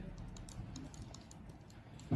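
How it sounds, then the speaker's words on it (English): Quiet typing on a computer keyboard, a quick run of light, irregular key taps at close range, alone without voices, ending with a slightly louder click. "I'm going to do Control-Z or type in undo on my keyboard"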